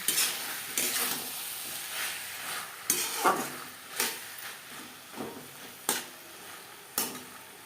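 Capsicum sizzling with silver carp curry in a pan, a steady frying hiss broken by repeated scraping stirs at irregular intervals, close and moderately loud, with no talking.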